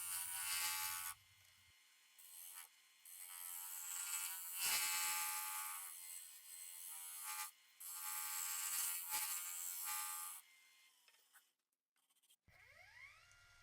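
A wood lathe turns a bowl while a curved edge scraper works the bottom and transition to the sides, a high hissing scrape in long bursts with short pauses, fairly quiet overall.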